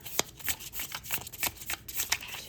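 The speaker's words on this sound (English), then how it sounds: "Let me go ahead and shuffle 3 times and clear the deck." A deck of reading cards being shuffled nearby in a quiet room, a run of crisp riffling bursts that rise and fall several times with no talk.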